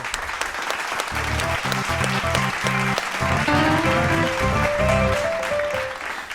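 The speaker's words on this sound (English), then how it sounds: "Everybody clap it up for yourselves" A studio group claps for themselves, steady continuous applause with some cheering, mixed with music playing underneath throughout.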